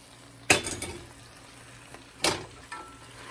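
Vegetables tipped into a hot pan for a Chinese stir fry, giving two sharp bursts of clattering sizzle a couple of seconds apart that fade quickly, with no talking.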